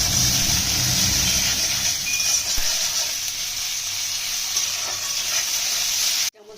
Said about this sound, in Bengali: আমরা তেল দিয়ে দিয়েছি এখানে পেঁয়াজ কুচিটা দিয়ে দেবো একটু নুন দিয়ে দেবো পেঁয়াজগুলো নরম হওয়ার জন্য